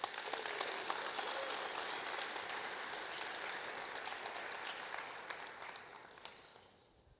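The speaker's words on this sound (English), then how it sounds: "Give Anthony a good round of applause" Audience applause at a live speaking event, a dense wash of many hands clapping, steady and fairly distant, fading out at the end.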